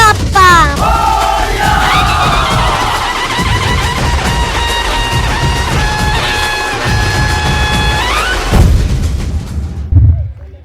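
Crowd at a Ganesh festival dance event chanting Ganpati Bappa together, a loud, sustained mass of voices with music and tones over it, cutting off abruptly near the end.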